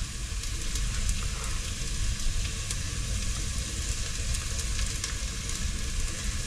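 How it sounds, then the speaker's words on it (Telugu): Tamarind paste going into a pot of cooking dal with methi seeds, giving a steady close sizzle and bubbling hiss with faint stirring scrapes throughout, no talking. "దీంట్లో ముందు మనం చింతపండు వేసేసుకుందాం."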